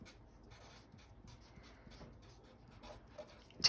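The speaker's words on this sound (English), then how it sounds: "So I'm going to write" Pen or marker writing on paper in an art lesson about leaf textures, soft scratchy strokes in a quick irregular rhythm, close and quiet, with a brief louder tap at the end.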